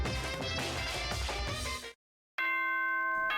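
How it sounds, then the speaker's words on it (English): A loud doorbell chime plays in the Danganronpa game, a bright ringing burst that cuts to silence before a sustained bell-like tone resumes. "The sound of the doorbell forced its way into my room."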